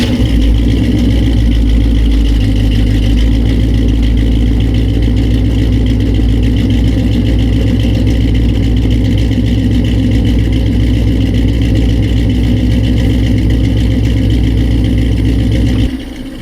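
A car with a 350 cubic inch engine and turbo 350 transmission runs loud and steady close up, a deep continuous engine rumble holding for about sixteen seconds before cutting off at the end.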